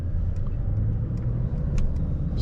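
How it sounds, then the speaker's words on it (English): A 2024 Mercedes-AMG S63 sedan with an 800 hp V8, driven at night on rough roads in comfort suspension mode, its exhaust a steady loud low rumble droning continuously from inside the car. "you can also hear the exhaust much better"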